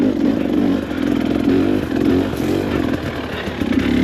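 KTM 300 Factory Edition two-stroke dirt bike ridden on a forest trail in autumn, its engine loud and close, revving in pulsing surges with clatter and scraping from the rough ground.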